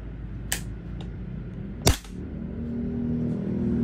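A KWA F90 gas blowback airsoft rifle fires through a chronograph: one faint pop, then one sharp loud crack close by, followed by a low rumbling hum.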